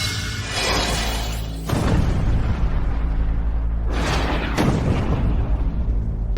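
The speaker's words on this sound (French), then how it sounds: "L'avion a explosé." A loud airplane explosion on a deserted island, with a heavy booming blast, a sustained roaring rumble, a second burst near the middle and more crackling debris noise after it.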